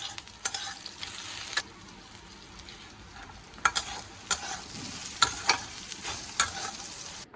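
Brinjal slices fry quietly in a pan with a low steady sizzle, marked by sharp clicks and taps from a spatula at irregular intervals, heard close and alone.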